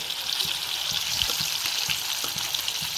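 Chicken frying in a pan while being stirred, a dense continuous sizzle close up with faint scraping of the stirring underneath, no voices.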